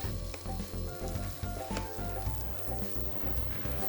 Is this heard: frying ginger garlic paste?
yes